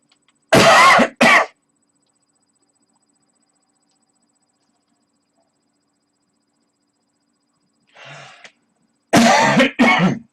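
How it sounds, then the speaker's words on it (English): A serious cough from a man on a live stream: two harsh, close coughs, a faint throat sound later, then two more loud hacking coughs separated by silence. "Sorry, that serious cough."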